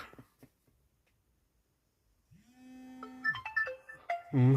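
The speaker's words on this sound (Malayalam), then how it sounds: "ആരോ വിളിക്കണ്ടേ" After near silence, a short run of bright melodic ringtone notes sounds from a phone announcing an incoming call, likely inside an online taxi, rising in loudness toward the end, with a low hum beneath.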